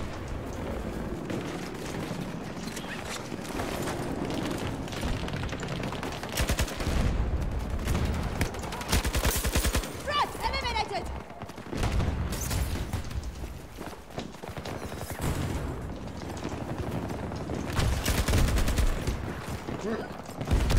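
Bursts of LMG hip fire in Battlefield 2042, a busy crackle of repeated shots at moderate level with other battlefield noise around them and little talk.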